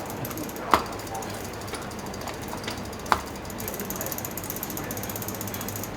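Bicycle rear wheel freewheeling as the rider coasts, practising with cleated shoes: a faint steady ticking texture with two sharper clicks, under low outdoor background noise.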